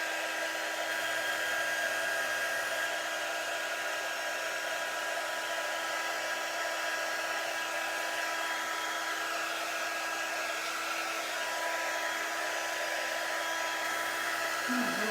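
A handheld quick-dry heat tool runs steadily and close, a continuous blowing whoosh like a hair dryer while it warms wax being buffed into wood, with no talking.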